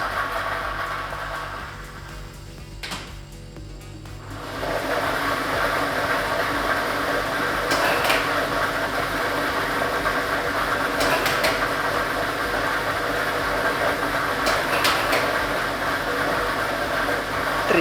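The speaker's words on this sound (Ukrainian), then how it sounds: "І ми вмикаємо лототрон" A lottery ball drawing machine switches on with a brief lull, then settles into a steady whirring roar of tumbling balls, broken by a few sharper rattles and clacks.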